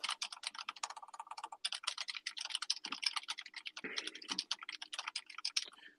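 Fast, furious typing on a computer keyboard, close and dry, with dense clattering keystrokes running nearly nonstop for several seconds and only brief gaps.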